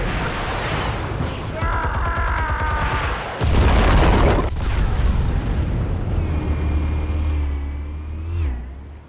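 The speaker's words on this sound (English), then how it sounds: "Explosives armed. Fire when ready." An explosion of armed explosives in Batman: The Telltale Series, with a deep heavy boom and rumbling blast amid engine-like roaring and droning tones, sustained loud for several seconds before fading.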